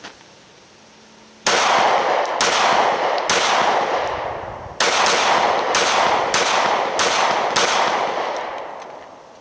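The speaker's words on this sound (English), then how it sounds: "I'm first going to shoot it with the magazine it came with" Single shots from a Smith & Wesson M&P 9c pistol fired outdoors, seven or eight loud, sharp cracks spaced about a second apart, each trailing off in a short echo, with no voices.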